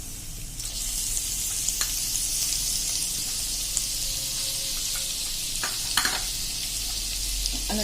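Garlic cloves and a pinch of asafoetida sizzle steadily in hot oil over medium heat for a chutney of ridge gourd, a continuous bright hiss with a few faint clinks, no voices.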